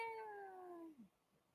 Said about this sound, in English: Distressed cat noises.